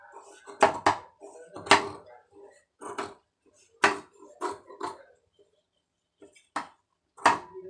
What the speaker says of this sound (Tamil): கரெக்டாக ஒரே மாதிரி பீஸ் வர்ற மாதிரி கட் பண்ணிக்கிறேங்க.